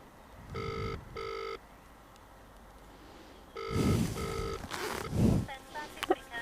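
A telephone ringing tone plays during a blood bike rider's call to a control centre, two double rings repeating in a steady pattern, with faint voice sounds around them.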